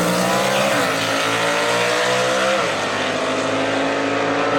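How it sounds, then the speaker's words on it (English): Gasser drag race cars, including a 1949 Studebaker truck, roar loudly down the strip at a dragway, their engines revving hard with rising and falling pitch sweeps. The sound stays dense and continuous throughout, and no voice can be made out clearly. "finds the number 9 qualifier, Bill Wilson, sitting in the mortgage options lane in the 49 Studebaker truck"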